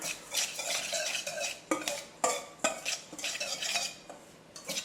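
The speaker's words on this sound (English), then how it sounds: "I just use a whisk to mix it together" A whisk stirs almond flour and baking powder in a bowl, giving quick scraping, clinking strokes in irregular bursts, fairly close and moderately loud with no talking.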